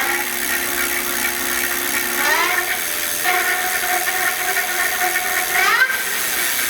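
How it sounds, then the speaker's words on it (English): Motor of a Ride1Up Core 5 electric bike, a steady whining hum that shifts pitch upward in steps as it runs, heard up close alongside faint mechanical rattling. "The motor on this bike does make some noise"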